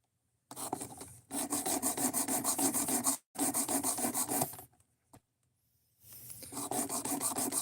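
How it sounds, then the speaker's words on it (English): A knife is drawn over the abrasive of a Work Sharp Precision Adjust Elite sharpener in a run of close, rasping strokes. The strokes come in three bursts separated by short pauses, and there is no speech. "This is a Work Sharp. It's Precision Adjust Elite."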